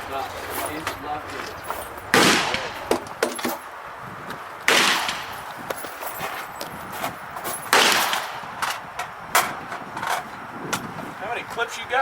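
AR rifle shots at an outdoor shooting range, three sharp, loud reports spaced a few seconds apart, with faint shuffling and distant noise between them.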